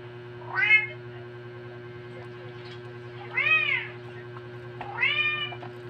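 A curious cat meows three times, each a clear, close, rising-and-falling cry spaced about two seconds apart, over a steady low hum and with no talking.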